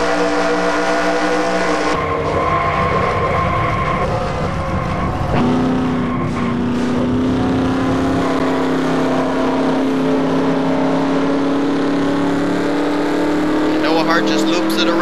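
Stock cars racing at Rockingham in a video game, with several engines droning and whining together at high revs and one tone climbing steadily as a car accelerates, continuous and loud with commentary talk running over it.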